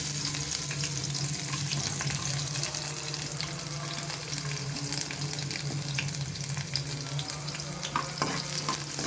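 Chopped garlic fries in a spoonful of oil while being stirred, a dense, close sizzle holding steady with scraping stir sounds and a few sharper crackles near the end, no speech.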